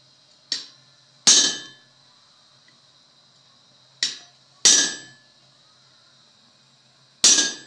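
A blacksmith's hammer strikes metal in five sharp ringing blows, arriving in uneven pairs with pauses between them. Each clang is close and bright and fades quickly into a quiet background.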